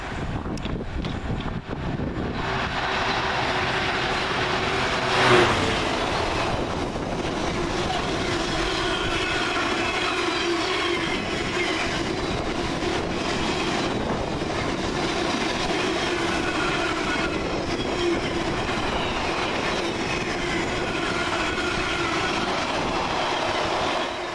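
A freight train hauled by locomotive 66556 rumbles steadily past at close range through Rugeley Trent Valley station, with rhythmic clattering wheels and wind buffeting the microphone throughout.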